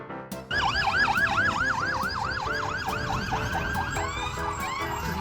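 A hazmat response unit siren wails in fast, regular rising-and-falling sweeps, loud and close, continuing steadily with a lower engine rumble beneath and no talking.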